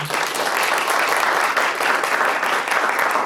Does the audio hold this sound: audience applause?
yes